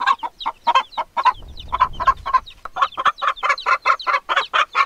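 A hen calls to her chicks with a rapid, steady run of close, loud clucks, broken only by a short pause and a soft rustle partway through.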